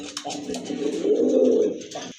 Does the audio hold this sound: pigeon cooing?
yes